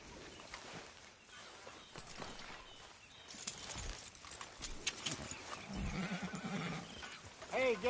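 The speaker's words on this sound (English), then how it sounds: "Careful with that horse" In Red Dead Redemption 2, a horse snorts and gives a rising whinny amid hoofbeats and shuffling, with a voice talking over the scene.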